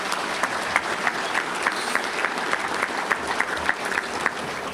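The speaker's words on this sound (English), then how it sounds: "Let's have a round of applause for all of them." An audience at a touchdown club luncheon claps steadily for the event's sponsors, a broad, even wash of applause from many hands with faint crowd murmur beneath and no speech.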